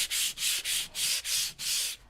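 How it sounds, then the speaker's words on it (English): Rhythmic strokes of sandpaper rub lightly by hand across a painted surface, six even back-and-forth passes with brief pauses between, close and clear. "I'm not sanding so aggressively that I'm scratching or gouging the surface"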